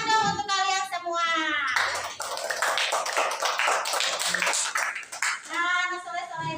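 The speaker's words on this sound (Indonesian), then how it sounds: "Tepuk tangan dong untuk kalian semua." Children in a classroom burst into a round of clapping, many small hands slapping together in a dense, lively patter for several seconds, framed by a voice speaking before and after.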